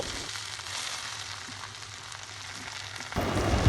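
Torn jute leaves sizzle steadily in a hot pan with oil, a dense continuous fry, with a louder burst of crackling and stirring near the end.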